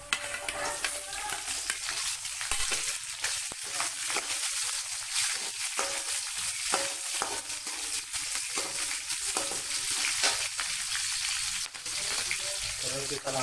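Chili peppers sizzle in hot oil in a pan while a simple tofu and bean sprout stir-fry is made, giving a steady, close, loud crackling fry with occasional stirring scrapes throughout.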